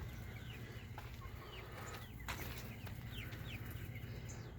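Chickens inside a farm coop, with soft scattered clucks and short bird calls over a steady low hum, close and fairly quiet.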